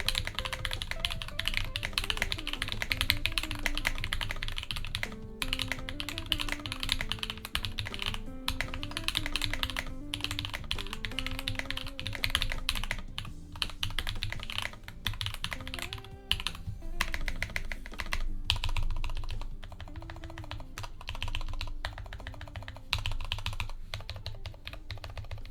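Continuous typing on a custom 65% Tofu keyboard fitted with Glorious Panda switches: dense, steady clacking keystrokes close up for about 25 seconds, with no talking.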